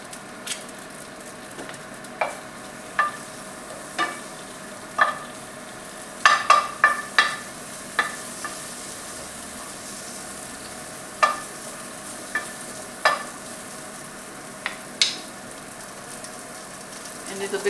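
Asparagus spears frying in about half a teaspoon of butter in a frying pan, a faint steady background with sparse sharp pops and crackles scattered throughout, a brief cluster near the middle.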